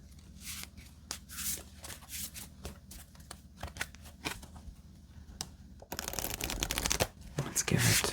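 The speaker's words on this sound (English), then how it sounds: "Let's give it one more shuffle" Jumbo playing cards being shuffled by hand, a crisp run of riffling flicks and taps followed by a louder, denser burst of card rustling and bridging near the end, close and soft with no speech.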